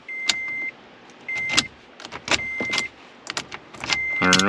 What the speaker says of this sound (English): it's feeling awfully rough pulling that key in and out of there now